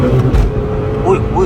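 Honda K24 naturally aspirated car at about 2000 rpm driving on a race track at night, a steady engine drone with a slight rise in pitch, under close talk.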